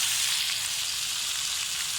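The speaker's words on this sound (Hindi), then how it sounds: "यहाँ हमारा प्याज ब्राउन हो चुका है। अब इसमें जाएगा 1 बड़े साइज़ का चॉप किया हुआ टमाटर।" Browned onion and chopped tomato sizzle in a pan with a dense, continuous hiss, close and steady throughout without pause.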